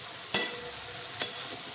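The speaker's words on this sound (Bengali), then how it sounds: "আদাটাও একটু এই পেঁয়াজ আর টমেটোর সঙ্গে ভালো করে ভেজে নেব" Ginger fries in a pan with softened onion and tomato, giving a soft steady sizzle broken by two sharp scraping stirs of a spoon against the pan, with no talk.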